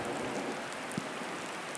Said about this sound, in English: these droplets of rain are huge